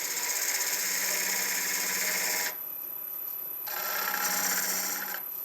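A spindle gouge cuts an olive wood natural edge bowl on a lathe. Two bursts of loud, rasping shaving noise, the first about two and a half seconds long and the second shorter, sit over a steady high motor whine.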